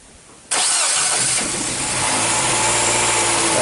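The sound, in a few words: 2007 Nissan Sylphy engine starting, P0304 cylinder misfire, rough idle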